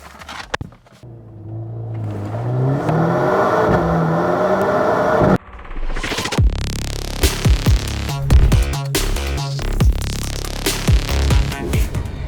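A Mercedes-AMG C43 sports car engine revs and accelerates, its pitch climbing through gear changes, loud and close, with no talking.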